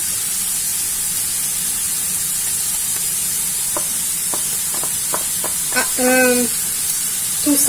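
Spinach dropped into a frying pan of mushrooms sizzles with a steady hiss, broken by several sharp crackles and spits that grow busier toward the end, with brief stirring or scraping sounds.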